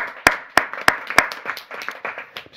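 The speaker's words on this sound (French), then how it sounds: "On peut les applaudir, les pompiers." A small group applauds firefighters at a municipal council meeting, starting with several distinct, evenly spaced sharp claps before more scattered clapping fills in.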